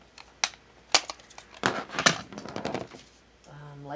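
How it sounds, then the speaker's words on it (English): Scissors snip and trim a cut piece of material for a Dollar Tree glue gun holder, several sharp close clicks and crinkles in an irregular rhythm, ending with a low hum. "and clean it up with my scissors."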